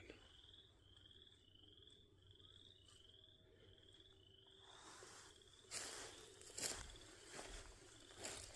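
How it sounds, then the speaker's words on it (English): Frogs croaking at night in a pasture, a steady run of repeated chirping calls at an even rhythm, followed by louder rustling and footsteps nearby. "the frogs are talking again"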